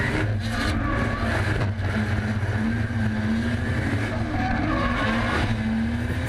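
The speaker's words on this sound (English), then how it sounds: "Tyres screaming, engine screaming," Drift cars on a Sydney drift series course, engines screaming at high revs with tyres squealing in sustained skids, loud and continuous throughout with rising and falling pitch.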